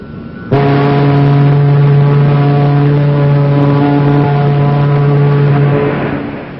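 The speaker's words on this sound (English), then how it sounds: "One long blast on a whistle." One long, loud, steady blast on the whistle of the battleship USS New Jersey, a deep tonal horn held for about six seconds alone before cutting off.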